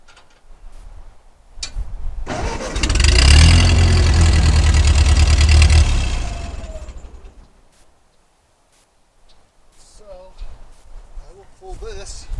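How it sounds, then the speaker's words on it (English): A mid-pitched Ford 9N tractor engine starts up and runs at a steady idle for a few seconds, then cuts out, leaving quiet with a few faint bird calls. "let me start the tractor up and move stuff around here"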